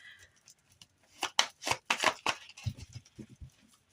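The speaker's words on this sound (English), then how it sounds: "I can barely shuffle the cards." Playing cards being shuffled in a few quick riffling bursts, close by and brief, with soft taps between.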